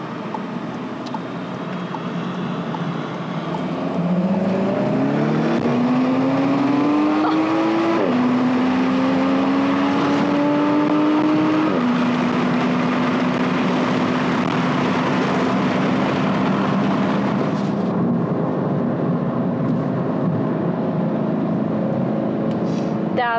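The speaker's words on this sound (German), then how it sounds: "Da sind mir die Reifen schon ein bisschen durchgedreht." A car engine revs up hard, its pitch climbing and stepping through gears, with a rough roar of spinning tyres and road noise, loud and close.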